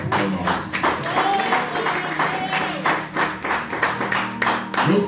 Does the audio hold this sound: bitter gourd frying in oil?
no